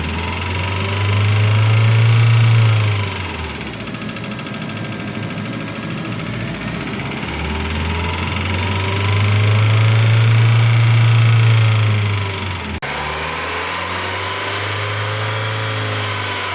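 A Mazda Miata NA engine idles with an abnormal noise, a steady mid-pitched running sound that swells twice in low drone and shifts tone near the end, with no talking.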